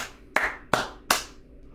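Women clapping in a crowd: three sharp, close hand claps land at an even, unhurried pace over a quiet background, each striking cleanly and then decaying quickly.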